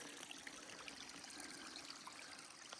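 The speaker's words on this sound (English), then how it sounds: "Just been following this little creek up." A small creek in a wildflower meadow below a ridge in South Kananaskis, Alberta, trickles and burbles over stones, a steady faint rushing with light splashy detail close by, no speech.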